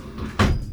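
A swivel bench seat slides forward on its track inside a Ford Transit van, giving a short soft scrape and then a firmer clunk as it moves, close and alone.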